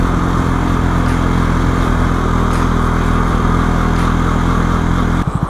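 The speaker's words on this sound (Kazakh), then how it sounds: "Бірінші Эдмакс айдап көріп отырмын." A Yamaha N-MAX scooter engine hums steadily at close range while being ridden, a loud continuous drone that ends in a few uneven pulses.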